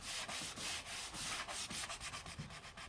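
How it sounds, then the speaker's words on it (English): Hand sanding of a painted wine cabinet between paint layers, a close, steady series of rhythmic rasping back-and-forth strokes with no voices. "it'll say right there to sand in between your layers."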